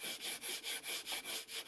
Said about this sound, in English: as you can see, it's still sanding, but not as much now